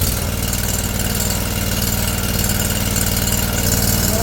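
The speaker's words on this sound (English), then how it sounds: "Start by increasing our RPMs. Our switch moves from off to on and start." Small petrol engine on a rented stump grinder running at steady high revs, a continuous loud droning buzz close to the microphone with no pauses and no voices.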